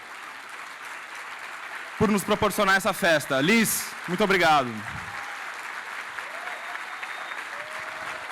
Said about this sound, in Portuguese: E Liz Calder, a quem eu peço uma salva de palmas